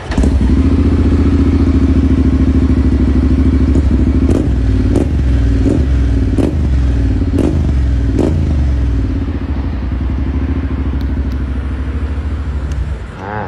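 A Honda X-ADV 750 motorcycle idles loud and close, its engine rumbling steadily with several sharp revs or clunks in the middle before settling back to a slightly quieter idle.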